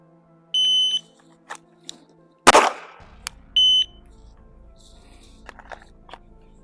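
A Glock 43X pistol fires a single loud close shot, bracketed by the shrill start and stop beeps of a shot timer, with faint handling noise afterward.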